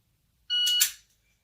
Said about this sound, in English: Beep goes off, break the shot as fast as possible.